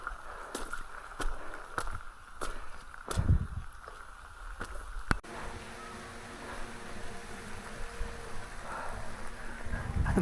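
Rain falling steadily along the Appalachian Trail during a long thru-hike day, a dense hiss with scattered sharp taps and knocks in the first half, then a smoother continuous patter.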